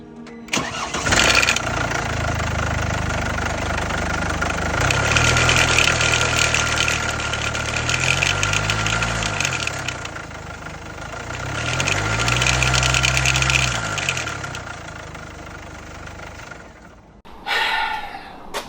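A Jaguar XF with a fault cranks and starts, then runs with a rough, uneven note whose pitch swells and falls twice in long surges before cutting off, followed by a brief second burst near the end; no talking.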